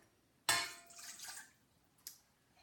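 Water poured into a mixing bowl for unleavened bread dough: a sudden splashing pour that tails off over about a second, followed by a brief second splash, close and fairly quiet.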